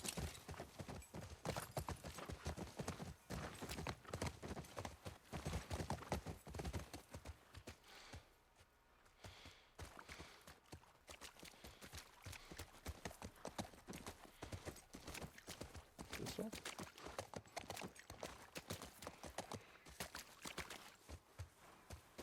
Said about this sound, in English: Can the horse jump this?